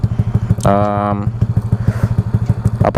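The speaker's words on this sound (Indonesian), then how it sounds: "bagi kalian yang suka suaranya adem, tentunya knalpot racing ya ini" A Yamaha NMAX scooter idles with an R9 racing exhaust in a fast, throbbing, lumpy putter, while a voice briefly speaks over the engine near the start.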